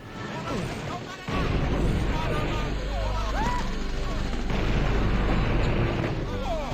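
Gunfire and blasts from the 1990s horror first-person shooter Blood, a dense, loud barrage of shots and booms under game music, with a brief quieter stretch before it kicks in.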